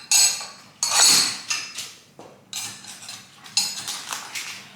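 Metal hand tools, a wrench, pliers, screwdrivers and a large Allen wrench, clink and clatter against each other in repeated bright, close bursts with no speech.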